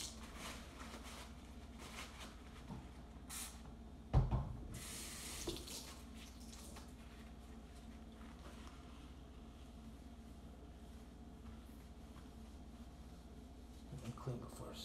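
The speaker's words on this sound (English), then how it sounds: "Make sure you clean the egg off your surfaces" Water runs faintly at a kitchen sink while egg residue is cleaned off the counters during frittata and biscotti prep, a steady low wash broken by a short clatter around the middle and a few soft knocks near the end.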